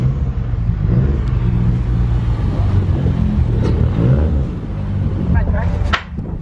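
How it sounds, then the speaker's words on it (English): A Subaru STI revs hard with its wheels spinning in snow during a small burnout, a loud, continuous engine roar that wavers and rumbles throughout, with voices talking over it. "Do a burnout."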